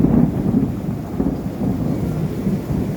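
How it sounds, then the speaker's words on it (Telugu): Heavy summer rain pours outdoors in North Carolina beneath a continuous deep, rolling thunder rumble, loud and steady throughout with no voices. "భయంకరంగా ఏ విధంగా అయితే కుంభవర్షం పడుతుందో"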